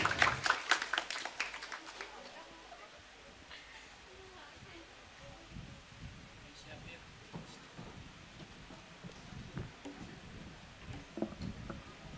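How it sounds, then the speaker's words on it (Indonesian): Audience applause at the inauguration of the SBSN building of the Ministry of Religious Affairs at MAN 3 Bantul, Yogyakarta, with a burst of clapping at the start and scattered claps later, under an announcer's speech. "mohon tepuk tangannya Bapak Ibu"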